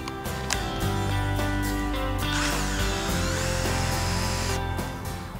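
A power drill whines and grinds steadily at close range, its motor pitch shifting as it bores a tent peg into hard ground, then winding down.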